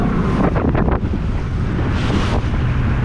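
Water splashing and slapping over the bow of a Fusion 19ft powerboat, heard as a rough, loud wash under heavy wind buffeting the microphone, with bursts of spray around the first second and again near two seconds.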